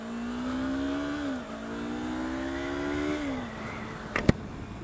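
A 2018 Yamaha R3 300cc sport motorcycle revs up through the gears, its engine note climbing twice in a row and briefly dropping between shifts, then settling, with a sharp click near the end.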